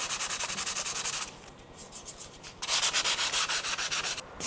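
Rhythmic hand sanding with sandpaper wrapped on a block, quick back-and-forth scrubbing strokes, close and steady, with a brief quieter pause midway before the strokes resume.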